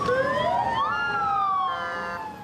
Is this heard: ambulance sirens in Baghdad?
yes